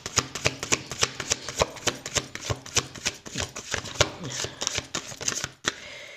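A deck of oracle light cards is shuffled by hand, producing a fast run of crisp, close riffling slaps and flicks in uneven rhythm for several seconds before trailing off.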